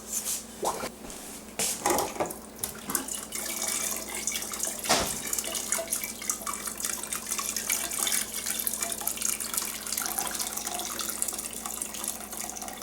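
Hot chicken broth and juices pour steadily through a colander, making a continuous splashing, running-water rush with occasional sharper splats, heard close and alone without speech.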